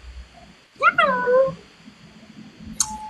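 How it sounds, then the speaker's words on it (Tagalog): A pet cat gives a single drawn-out meow close by, followed by a faint short chirp, with people talking quietly around it. "Ito yung pusa ko."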